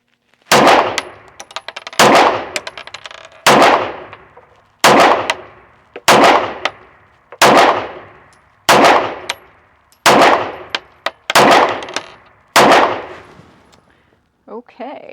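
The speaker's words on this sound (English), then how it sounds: "let's shoot the Staccato" Staccato P pistol shots fired one at a time at a steady pace, ten loud, sharp cracks each with a ringing tail, close and spaced about 1.5 seconds apart.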